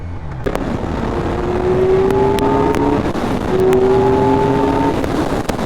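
A 2025 Kawasaki Z900 motorcycle engine pulls hard under acceleration on a road ride, its steady roar climbing in pitch through two rising sweeps, loud and close with wind rush throughout.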